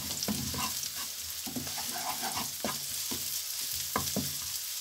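Garlic sautés in a pan with mussels in tomato sauce, a steady close sizzle under repeated scraping and stirring knocks of a utensil against the pan.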